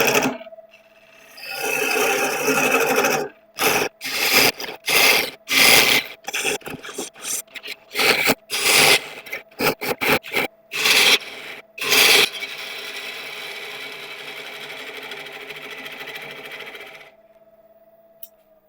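A woodturning tool hollows a piece of wood on a lathe, giving repeated rough scraping and rasping bursts in an uneven rhythm with brief pauses, followed by a steady low motor hum once cutting stops.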